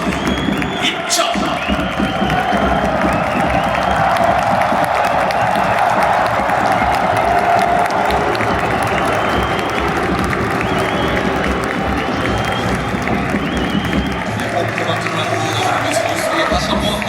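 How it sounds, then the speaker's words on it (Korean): A huge stadium crowd of about fifty thousand roars, cheers and applauds continuously for a footballer's entrance at Seoul's Sangam stadium, a dense sustained wall of noise with whoops and shouts rising throughout. "선수에게 다시 한번 아낌없는 박수와 함성으로 맞아주시기 바라겠습니다."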